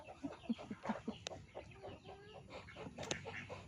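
Hungry chickens cluck close by in quick, overlapping bursts, with a couple of sharper squawks among the chatter.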